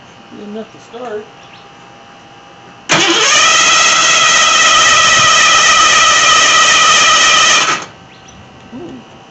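A Ford Granada's 351W V8 with a Holley carburetor cranks steadily for about five seconds without catching, a loud, even starter whir that stops abruptly, with faint voices before and after.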